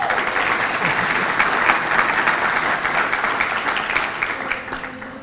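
A banquet audience applauds Tennessee educators with dense, steady clapping that holds at an even level for the whole stretch and tapers slightly at the end, with no talk over it.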